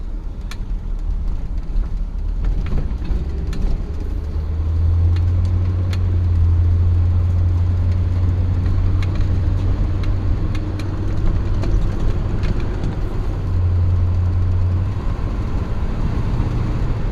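A 1966 Ford Galaxie 500 convertible engine idles steadily with a low, continuous hum, more solid from about five seconds on, and no talk over it.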